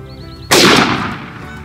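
A single loud gunshot from a hunting gun during a youth turkey hunt outing, a sharp close blast with a ringing decay, preceded by faint ambient sound and a bird chirp.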